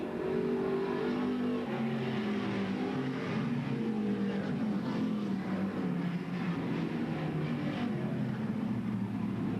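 Race cars roaring steadily around the oval at Bedford Speedway in 1994, engine drones rising and falling in pitch as the pack laps continuously, loud and close with no talk.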